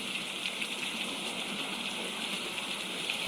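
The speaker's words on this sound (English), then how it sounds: "now we just listen to the rain" Steady rain pours down outside a makeshift camp shelter, a dense, even hiss of drops on surfaces that runs without pause, with no voices.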